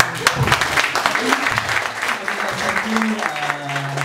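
Audience clapping at a sales and marketing talk, a steady patter of many hands with some voices and murmuring mixed in.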